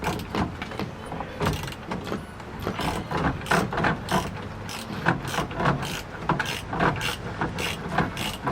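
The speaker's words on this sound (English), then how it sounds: "Next we'll be removing the 19mm bolt that is holding the steering wheel." A hand ratchet works the 19mm bolt holding a Nissan Hardbody steering wheel, a quiet, close run of rapid clicking strokes in uneven bursts with small metallic knocks between them.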